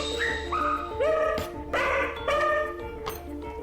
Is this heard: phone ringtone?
no